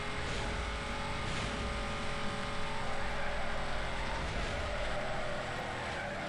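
A car in the Need for Speed Most Wanted video game accelerates steadily in fifth gear, its engine a constant, even drone with slowly rising pitch, fairly quiet and without talk.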